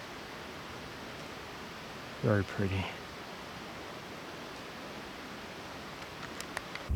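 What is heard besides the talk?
waterfalls in the background on the Colchuck Lake trail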